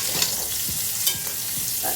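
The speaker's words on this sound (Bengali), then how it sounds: "এবার সাজনাটাও ভেজে নিচ্ছে আলুর সাথে" Drumstick pods and potatoes fry together in a pan, with a constant close sizzle broken by occasional scrapes and clinks of a spatula stirring.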